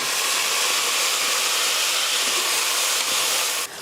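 Onions and green chillies sautéing in a pan, a loud, continuous broadband sizzle that holds steady for a few seconds, close up, with no speech.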